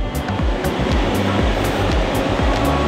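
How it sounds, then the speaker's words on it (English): Water mist sprayers hiss on the open top deck of the cruise ship Independence of the Seas, a steady close broadband wash with faint low rhythmic thumps underneath and no talking. "little mist zone. If you walk through it, you will get sprayed."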